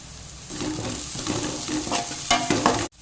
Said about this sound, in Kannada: ಸ್ವಲ್ಪ ಕಾಯಿ ಮೆಣಸು ಹಾಗೂ ಶುಂಠಿಯನ್ನು ಹಾಕಿ ನಾನು ಫ್ರೈ ಮಾಡ್ತೇನೆ